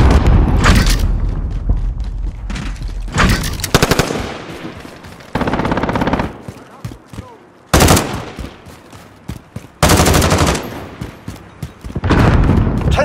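Bursts of automatic machine-gun fire in a video game with a helicopter gunner and an M14, loud volleys of rapid shots interrupted by short pauses, with booming impacts between them.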